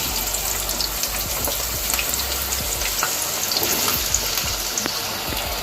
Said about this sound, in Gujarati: હવે આપણે રતાળુ અને બટાકાને ફ્રાય કરી લઈશું.